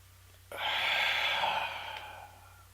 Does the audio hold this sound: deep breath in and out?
yes